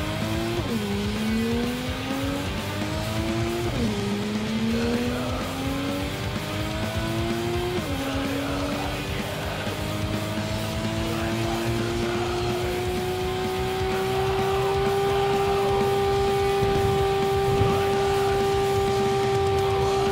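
Fast car driving in Cyberpunk 2077: an engine revs up through several gear shifts, then holds a steady high-pitched drone at speed, with faint tire noise, loud and close throughout.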